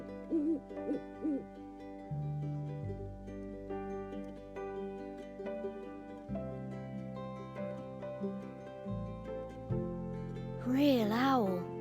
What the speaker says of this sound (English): Real owl.